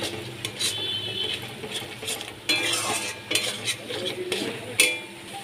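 Paneer masala is stirred and sautéed in a pan, a spoon scraping and clinking against the metal in irregular bursts over a low sizzle, close by, with no one speaking.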